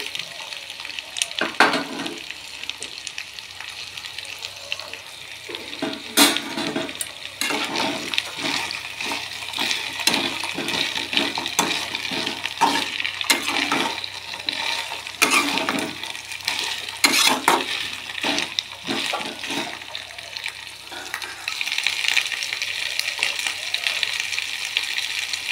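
Drumstick stalks frying in a pan with a steady sizzle, while repeated scraping and clattering stirs sound close over the continuous hiss.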